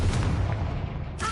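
Confringo fire spell in Hogwarts Legacy on PS5: a loud, deep booming blast that rumbles and fades over about a second, followed by a short bright burst of game effects.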